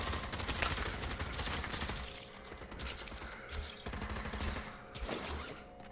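Gunfire rattles throughout a Pavlov VR free-for-all match, with dense rapid bursts and sharper individual shots overlapping at steady loudness.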